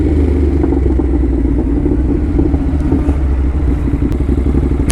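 A Ducati motorcycle engine revs and pulls hard on a New York street, a loud, close, throaty rumble that holds steady and strong throughout with no talking.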